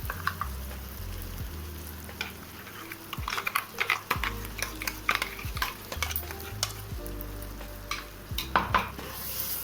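Masala sautéing in hot oil for a mixed-vegetable handi, a steady sizzle under repeated spoon scrapes and stirring knocks against the pot, close and continuous with no talking.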